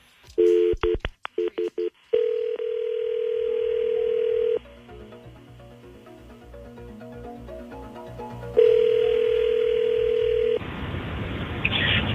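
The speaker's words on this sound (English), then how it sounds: "Let's make a phone call." A telephone call is placed: a string of short dialing beeps, then a steady dial tone, quieter ringback-style tones, another steady tone, and a final burst of line noise, all close and with no talking.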